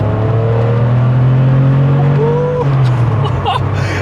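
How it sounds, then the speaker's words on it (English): A Porsche 911 Targa Supersport SSE engine revs hard and close, its tone climbing in a sustained pitch rise before easing off, with faint light clicks near the end. "That engine sings."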